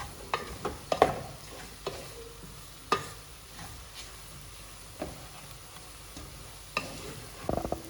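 Pilau rice and beef being stirred in a pot, with intermittent scraping and knocking strokes of a spoon against the pot over a low simmer, spaced irregularly and fairly quiet.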